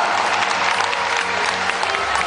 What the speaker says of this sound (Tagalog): Ang hina naman ang palakpak nyo